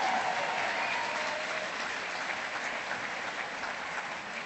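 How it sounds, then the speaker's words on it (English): An audience at an Essendon football club gathering gives sustained applause for honoured players, a thick wash of clapping that holds steady and eases slightly toward the end, with no speech. "come on, we need some applause"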